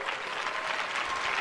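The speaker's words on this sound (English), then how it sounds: "Everybody, Ryan Moore, clap it up." Applause from a conference audience after a stage presentation, a continuous, even burst of many hands clapping at steady volume from start to finish.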